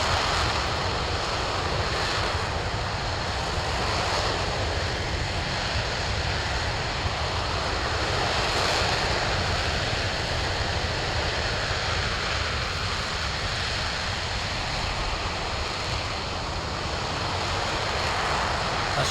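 Steady, loud engine roar from a shuttle in the video game Kerbal Space Program 2, with a vibration issue at 90% throttle; a dense, continuous broadband rumble holds level throughout with no talk.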